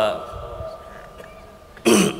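After a fairly quiet stretch, one sharp, loud cough bursts out close by near the end, from a speaker at a political election rally in Thane.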